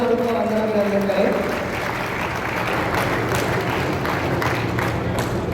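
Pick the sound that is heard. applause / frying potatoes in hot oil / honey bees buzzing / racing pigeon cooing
applause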